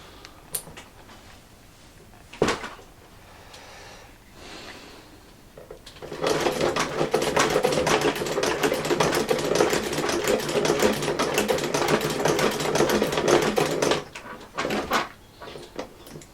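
Singer 29K15 sewing machine being repaired, a single knock first, then about eight seconds of rapid close mechanical clattering as it runs, stopping abruptly, with a few handling knocks after.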